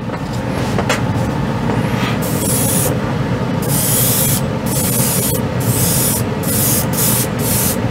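An airbrush sprays Mr. Hobby Aqueous white model paint for miniatures in long hissing bursts that start and stop, held near over a steady low background rumble.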